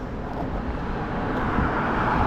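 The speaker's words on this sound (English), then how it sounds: "I hear a jet plane." A jet plane flying overhead during an outdoor walk in Maine, heard as a steady, broad low roar that swells slightly toward the end, mixed with wind and distant traffic.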